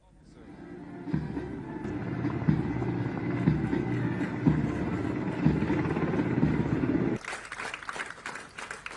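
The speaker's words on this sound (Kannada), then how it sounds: "ಇದೇ ವೇಳೆ ಹೆಲಿಕಾಪ್ಟರ್ಗಳ ಹಾರಾಟ ನೆರೆದಿದ್ದವರ ಗಮನ ಸೆಳೆಯಿತು" Military helicopters fly over an air force passing-out parade, giving a loud, steady low rumble with a rhythmic beat that holds for several seconds, then a sudden shift to a brighter, noisier wash near the end.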